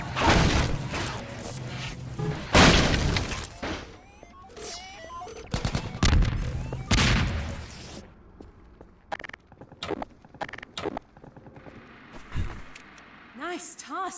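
Sniper and other gunfire in Half-Life 2 Episode, loud sharp shots and bursts alternating with quieter gaps, footsteps and game voices under a talking narrator.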